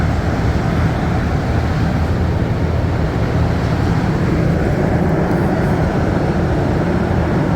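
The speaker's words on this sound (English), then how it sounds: "And now we continue the rest of our metro ride here on the blue line." A Montréal Métro MR73 train runs on the blue line, a loud, continuous rumbling roar heard from inside the car, steady throughout with no talking.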